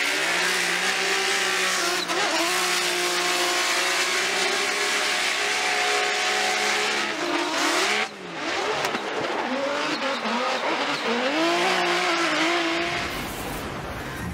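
A drift car at a Formula Drift competition in St. Louis, its engine revving hard and holding high rpm with shifting pitch and tire squeal, loud and close, dipping briefly mid-run before climbing again and fading at the end.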